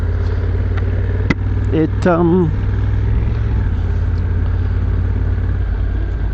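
A motorcycle with a DCT transmission, ridden in S1 mode on a morning commute, gives a steady, loud engine rumble mixed with wind noise throughout, with a brief chirping sound in the middle.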